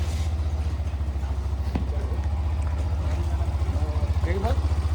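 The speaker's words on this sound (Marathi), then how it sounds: "गाडी कोल्ड स्टार्ट केलेली आहे. थंडीमध्ये इंजिन कोल्ड राहतो, ती स्टार्ट करा ना." A motor vehicle engine cold-starting on a chilly morning in Pune, running with a steady low idle rumble that carries throughout, with people talking nearby over the engine noise.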